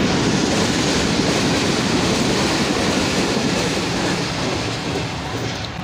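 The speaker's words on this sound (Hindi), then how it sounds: "आ गई ट्रेन।" Train rolling past a closed railway crossing, a loud steady roar of wheels and carriages with rhythmic clatter that fills the whole stretch and eases slightly toward the end.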